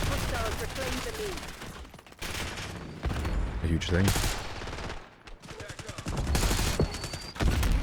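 Dense automatic gunfire from a Call of Duty Black Ops 6 multiplayer match, with loud continuous bursts and rapid shots that break off briefly and start again, layered with game effects and some talking.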